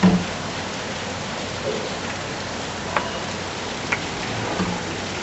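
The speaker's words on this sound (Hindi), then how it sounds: "बारिश है ना?" Rain pours in a steady, broadband wash, with a few sharp drips and taps standing out over the constant patter, and no voices are present.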